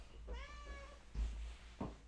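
A cat meows once with a clear, drawn-out tone, followed by a couple of low thuds and bumps nearby; no one speaks.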